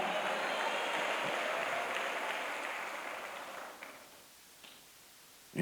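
A church congregation applauds steadily for several seconds during a Baptist communion service, the clapping gradually thinning out and fading, with a few isolated claps at the end.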